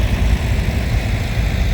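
A 1961 John Deere 3010 diesel tractor with a two-post roll guard rolls past in a farm show parade in Iowa, its low, steady engine rumble close and continuous throughout.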